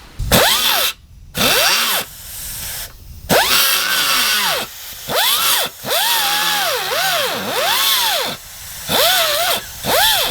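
A power cutting tool slices through a weld on a Scamp camper axle tube made of thin 11-gauge steel. Its loud whine repeatedly rises and falls in pitch under load, with several short pauses between passes. No voices are heard.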